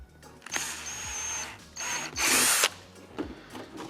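A power drill boring into the indents of a TIE pilot helmet, with several bursts of whining motor noise of different lengths, the longest and loudest near the end.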